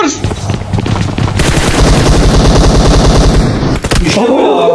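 Loud, rapid automatic gunfire from PUBG Mobile, fast repeating shots pounding close for several seconds before breaking off near the end.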